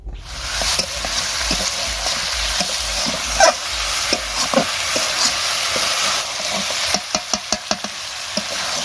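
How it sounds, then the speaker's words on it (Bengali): Meat sizzles in a pan while a utensil stirs and scrapes it, a steady frying hiss broken by irregular knocks and clacks that grow quicker near the end; no talking. "এদিকে হচ্ছে তোমার এই যে মাংস কষা কষা কষা মাংস সবে চাপালাম"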